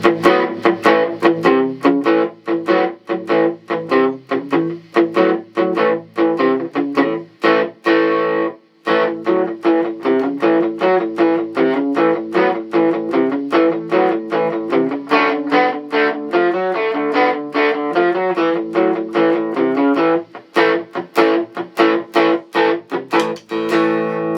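A 2022 Epiphone Les Paul Jr electric guitar played through an East River overdrive pedal with a little reverb, strumming a continuous run of crunchy, distorted chords with rhythmic attacks and one brief pause, loud and alone.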